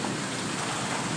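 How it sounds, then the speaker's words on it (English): Rain falls steadily outdoors near a horse, a dense even hiss of drops on surfaces, continuous and fairly loud across the brief moment with no voices. "It's raining."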